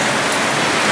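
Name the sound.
rain falling outside on a boat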